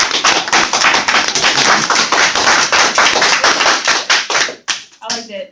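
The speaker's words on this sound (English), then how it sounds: "Let's clap it up." Audience at a senior exhibition presentation bursting into close, lively clapping, rapid and sustained, then tapering to a few scattered claps as a voice begins at the end.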